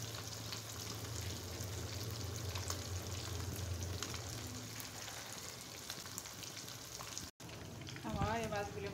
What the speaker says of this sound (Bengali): আমার এই মাছগুলি ভাজা হয়ে গেছে